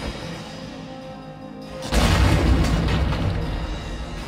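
A grenade goes off in Valkyria Chronicles with a sudden heavy boom that breaks into a low, rumbling blast. The roar lingers and slowly fades over the next couple of seconds.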